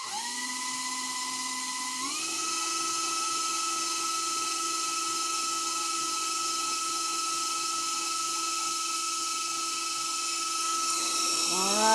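An electric hand mixer whirs through lemon cake batter with a steady high whine that steps up in speed after about two seconds, holds evenly, then shifts near the end.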